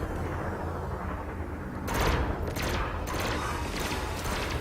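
Lasers and cannons firing during a pirate-hunting fight in Elite: Dangerous, with several loud bursts of rapid fire in close succession over a steady low ship hum.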